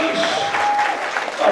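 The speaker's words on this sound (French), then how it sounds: "applaudissements, mon chiche" Applause from an audience at a presentation of a film's actors, a short burst of clapping with voices and crowd murmur mixed in and a thin steady tone running underneath.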